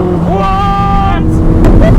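A Koenigsegg Chimera's 1600-horsepower engine downshifts, its tone sweeping up into a sustained rising whine before cutting off, followed by a short burst with wind noise behind.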